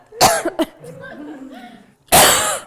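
A woman coughs hard twice at close range, first a cluster of harsh bursts, then one long loud cough, with quieter voiced sounds between them during a comedy dating show.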